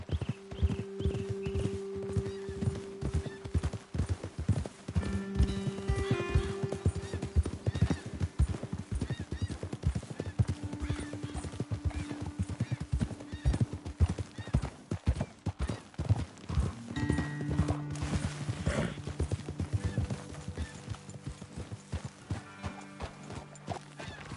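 Horse hooves clip-clop steadily through a Red Dead Redemption 2 game scene, a continuous rhythmic trot near and clear, with occasional neighs and whinnies and a music bed underneath.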